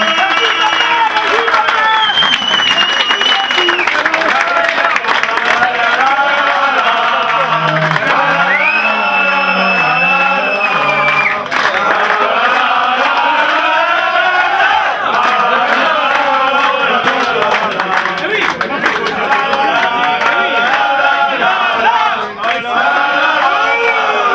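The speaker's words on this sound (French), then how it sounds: "Alors bravo à eux, un tonnerre d'applaudissements" Crowd cheering and applauding at a rugby tournament, loud and sustained throughout with whoops and shouts mixed in, voices rising and falling over steady clapping.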